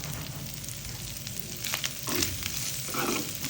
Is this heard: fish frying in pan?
yes